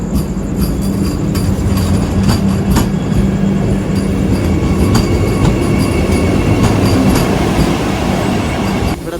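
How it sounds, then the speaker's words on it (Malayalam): The Madgaon–Mangaluru Central Vande Bharat express passes close by on the rails, a loud continuous rumble of wheels with rhythmic clacks and squealing that holds steady before easing slightly at the end. "മഡ്ഗാവ് മംഗളൂരു സെൻട്രൽ വന്ദേ ഭാരത് വരുന്നുണ്ട്."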